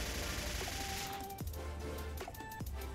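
Rapid bursts of AK-34 gunfire in a Roblox police game play behind steady game background noise, with several sharp shots and an abrupt drop where the firing cuts off.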